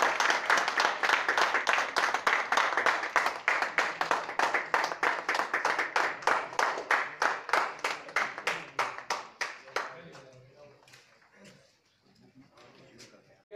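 Audience clapping in a rhythmic, evenly paced beat, loud and sustained for about ten seconds before thinning into scattered claps and quieter murmuring, with some voices underneath.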